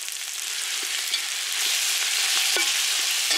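Spices with turmeric, kasuri methi and ginger-garlic paste fry in a pan, giving a steady, close sizzle with faint stirring scrapes and no talk.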